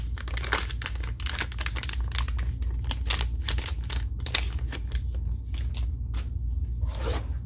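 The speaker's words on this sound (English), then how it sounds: "let's rip this open then." A basketball card repack being ripped open by hand, close crinkling and tearing of plastic and paper wrapping in quick irregular bursts over a low steady hum, with no talk.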